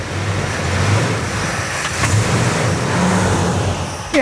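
A fully original Plymouth Superbird's Mopar engine runs after starting, a steady moderately loud low rumble with slight swells in revs, heard alone and close.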